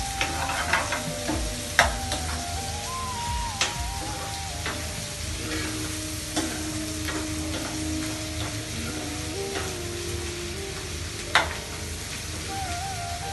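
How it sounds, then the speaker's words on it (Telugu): Chopped onions drop into a pan for a prawn fry and sizzle steadily while a spoon scrapes and taps, with a few louder clanks and a faint tonal whine in the background. "మనం కట్ చేసి పెట్టుకున్న ఆనియన్స్ వేసుకోవాలి."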